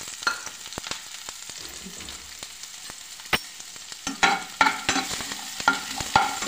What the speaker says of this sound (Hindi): फिर हम इसमें प्याज डाल देंगे